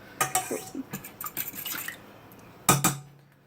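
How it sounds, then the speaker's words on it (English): Cheese being mixed fast in a bowl for burrito eggs, with a rapid run of clattering utensil-on-bowl scrapes and taps, then a brief pause and two sharp, loud clinks near the end. "Just mix up your cheese just really fast."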